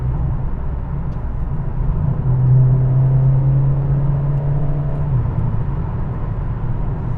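Mercedes CLA45 with a new aftermarket exhaust driving on wet roads in comfort mode with the valves closed: a steady low engine drone and road rumble, swelling slightly as the throttle opens, then settling back.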